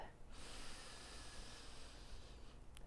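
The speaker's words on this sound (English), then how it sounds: "we take another deep breath" A single slow, deep breath is drawn in close to the microphone, a soft airy hiss lasting a couple of seconds before tapering off.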